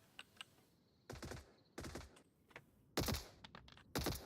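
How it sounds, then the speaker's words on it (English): Bursts of rapid gunfire in the VR shooter game Onward during a VRML competitive match, in quick volleys separated by short pauses, loud and close. "Oh, gunshots being made"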